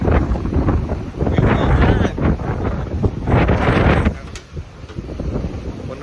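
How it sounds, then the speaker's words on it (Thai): Strong wind buffets the microphone at a beach viewpoint around Cha-am and Hua Hin, a loud, steady roar with gusty swells that eases slightly near the end. "ลมแรงมาก"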